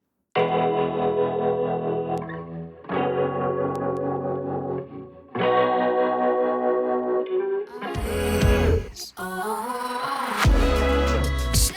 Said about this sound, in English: And then here's the chorus guitar sound.